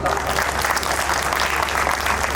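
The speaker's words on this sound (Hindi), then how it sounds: "माँ के सामान में जोरदार तालियां" Loud, sustained audience applause at a poetry stage show, a thick continuous wash of clapping with no pauses.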